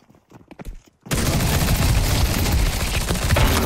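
Sustained rapid gunfire in Counter-Strike 2 bursts in loudly after a second of faint footsteps and clicks, continuing as a dense automatic volley to the end.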